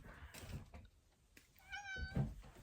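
A single drawn-out cat meow, fairly quiet and close, with soft knocks and shuffling around it.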